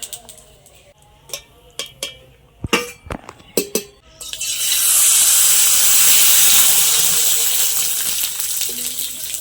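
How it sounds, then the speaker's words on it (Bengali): A few sharp clinks and taps, then a loud, steady sizzling hiss of raw-mango papad frying one at a time in hot oil that carries on to the end. "এখন একটা একটা করে পাঁপড় দিয়ে ভেজে নেব।"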